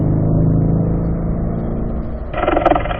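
A race car engine hums steadily at mid revs while coming out of a corner in fourth gear, then picks up with a rougher, louder surge of acceleration near the end.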